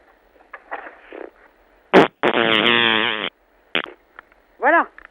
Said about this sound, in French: La grenouille a pété